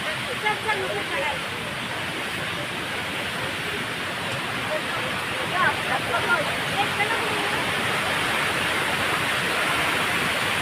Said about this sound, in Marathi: आवाज ऐकत असाल तुम्ही पाण्याचा मस्त पैकी जोर वाढलेला आहे